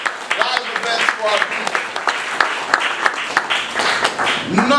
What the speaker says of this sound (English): We can thank him with our applause right now